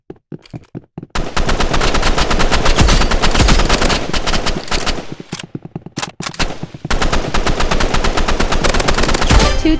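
Rapid automatic gunfire from the Roblox Rivals shooter game, loud and close, with a few single shots before long sustained bursts that pause briefly and resume.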